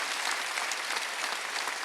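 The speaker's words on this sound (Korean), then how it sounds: "박수 좀 세게 쳐요," A church congregation applauds during a Sunday worship service, a dense and steady burst of many hands clapping at once, filling the space evenly with no voices rising above it.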